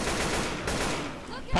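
Left 4 Dead 2 gunfire on the No Mercy map: a loud, dense burst of rapid automatic shots that runs almost without a break, then a sharp final crack near the end.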